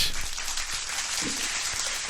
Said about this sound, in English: A round of applause for AJ Stuart